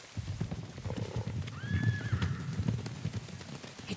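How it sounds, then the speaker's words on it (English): Horses in the Ghost of Tsushima video game approach with a rising whinny and clip-clopping hooves, moving through rustling ground noise at a moderate distance. "Horses, they're coming for us."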